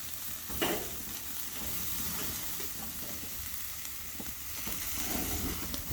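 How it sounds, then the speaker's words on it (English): Steaks sear on a charcoal grill outdoors at a farm, giving a steady close sizzle and hiss for the whole stretch, with a few brief pops and crackles rising out of it. "all I'm trying to do is get a good sear on each side"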